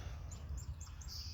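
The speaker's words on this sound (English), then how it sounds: "Hear a cardinal chirping over there." Several short, high chirps from a northern cardinal sound at a distance, soft and spaced apart, over a low outdoor hum.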